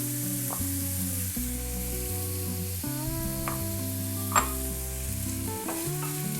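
Sliced green chillies and ginger fry in a pan for pulinji and are stirred now and then, giving a continuous soft sizzle and occasional scrapes under steady, sustained background music tones.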